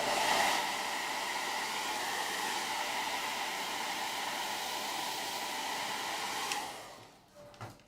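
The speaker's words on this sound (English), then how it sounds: "So we will use the blow dryer" A handheld blow dryer runs on stencil paint in a steady, strong whoosh that holds for several seconds before switching off and fading near the end, with no talk over it.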